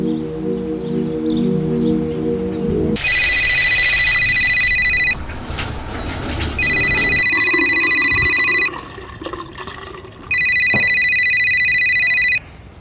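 A telephone ringing in three long electronic bursts separated by pauses, loud and close in an indoor scene, with running water and faint household noise underneath.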